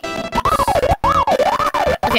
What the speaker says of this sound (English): did I just hear a siren noise?